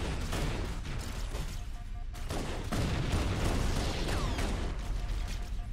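Dense gunfire in Halo CE crackles in rapid, overlapping bursts. Loud shots and booms pile up continuously for several seconds in a busy firefight.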